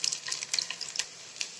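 Five or six small pieces of chopped garlic fry in hot oil in a pan, giving off quick, irregular crackles and sputtering pops close by, fairly soft overall, with no voices.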